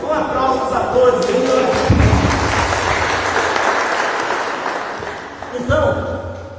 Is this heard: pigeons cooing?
no